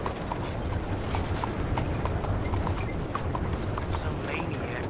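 Horse hooves clip-clop in a steady gallop rhythm in the RedM western video game, loud and continuous with no pauses.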